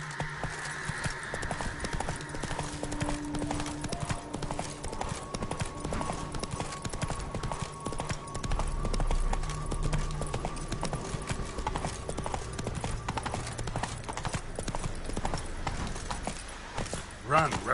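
Roach the horse galloping in The Witcher 3, with steady rapid hoofbeats running throughout under sustained game music and ambience, and a voice speaking over the ride.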